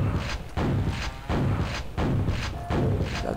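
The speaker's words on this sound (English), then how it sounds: "God, don't shoot a grenade in the small hallway." Grenade explosions in Quake 1, deep repeated thudding booms roughly every second and a half, loud and close in a small hallway.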